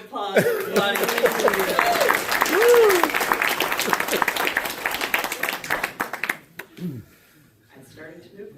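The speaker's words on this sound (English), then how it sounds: "Another round of applause for Claudia." An audience at a live storytelling show claps for a storyteller, with dense, lively applause and some cheering and whoops that fade after several seconds into a quiet room.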